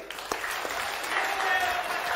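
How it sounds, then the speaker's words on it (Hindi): A crowd claps at a large religious gathering, a soft, diffuse wash of applause from a distance with a few sharper nearby claps standing out. "आनंद आया हो तो ताली तो बजा दे।"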